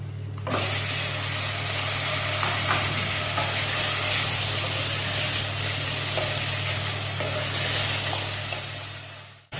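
Tomatoes frying in a mutton karahi masala gravy, a steady loud sizzle with hiss and occasional stirring scrapes, continuous for about nine seconds with no voices.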